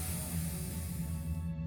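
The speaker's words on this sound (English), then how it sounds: "Here I'm spraying on the glue" Glue sprays in a steady, faint, continuous hiss onto model pine trees, lasting under two seconds before cutting off.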